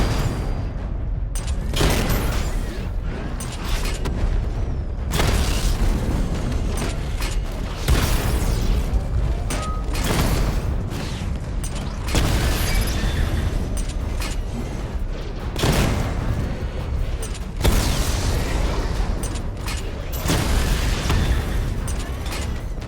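Missile barrage explosions in Batman Arkham Knight: a rapid series of heavy booms and bursts, roughly a dozen loud blasts in irregular clusters with mechanical creaks between them, close and dense, no talk.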